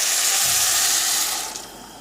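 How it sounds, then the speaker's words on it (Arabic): Water pours steadily into a pot of rice with chicken and meat for Iraqi biryani, a loud, continuous splashing hiss that tapers off near the end, with no talking. "راح نبدي نخلي مي اللي احنا خليناه"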